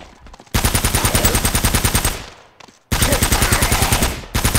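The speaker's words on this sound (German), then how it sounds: "Jetzt muss man laufen und schießen." Automatic gunfire in the video game Uncharted: Drake's Fortune, two long loud bursts of rapid, evenly spaced shots close up, separated by a short pause, then another burst starting at the end.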